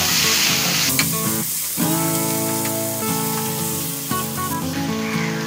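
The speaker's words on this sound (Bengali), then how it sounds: "এবার আমি সবগুলো একসাথে মিশিয়ে ভেজে নেব।" Sweet pumpkin pieces fry together in a pan with a loud, continuous close-up sizzle and crackle of hot oil, along with faint humming tones and an occasional light tap.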